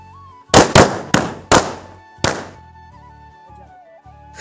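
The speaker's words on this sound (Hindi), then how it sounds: "आज मैंने बड़े दिनों के बाद पटाखे फोड़े" Five sharp firecracker bangs burst in quick, uneven succession, loud and close, followed by quieter tonal background noise.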